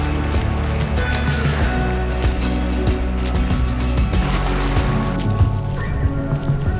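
Water splashing from a swimmer's strokes, dense and close with continuous churning and slapping under a layer of music.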